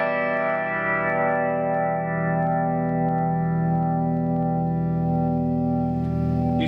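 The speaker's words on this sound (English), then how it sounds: "I'm going to play that same chord with the compressor off." A guitar chord rings out through a One Control Lemon Yellow compressor pedal switched off, with a chorus-like shimmer. It sustains loud and clean for several seconds, slowly decaying, with no voices.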